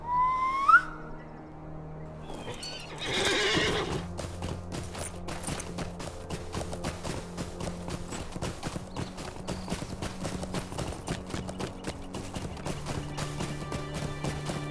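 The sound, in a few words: horse riding and whinnying in video game Lord of the Rings Online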